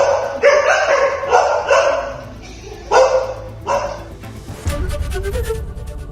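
A dog barks in a district hospital emergency ward, a run of sharp close barks and yips in bursts with short pauses, then rustling and faint background noise.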